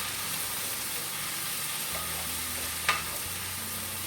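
Canned diced tomatoes with mild green chilies being stirred into chicken spaghetti in a pan, a soft steady scraping and gentle sizzle with one brief sharper clink near the end, no talking.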